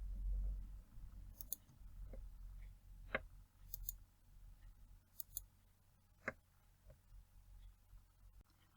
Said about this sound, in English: Select the flight and double click on it.